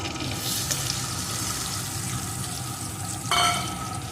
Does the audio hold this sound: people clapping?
no